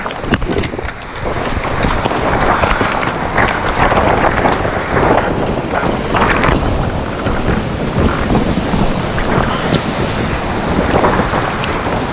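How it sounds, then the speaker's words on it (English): Loud, blustery wind roars against the microphone while heavy rain pours down continuously at a New Zealand campsite, a dense, rough storm noise with no letup. "It's really windy and pissing down with rain."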